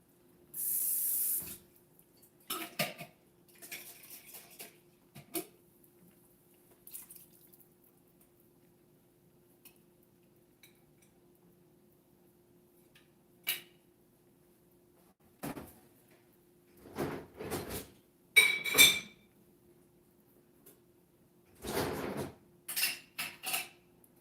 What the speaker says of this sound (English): How do I wash these lids?